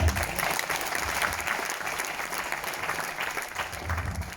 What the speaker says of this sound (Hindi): सो क्या एक जोरदार तालियां बनती है?